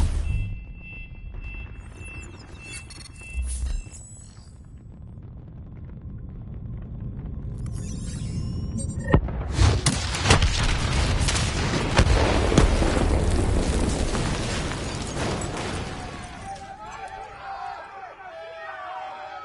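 Detonation in the Black Ops 3 video game: after quiet stretches with brief thuds, a loud booming explosion erupts and rumbles on with crackling debris and further blasts before fading, while voices talk at points.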